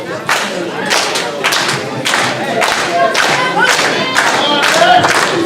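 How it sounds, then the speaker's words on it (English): A wrestling crowd at a ladder match claps rhythmically in loud, regular bursts, cheering and shouting in support of the champion throughout. "The crowd showing their support clearly behind the champion."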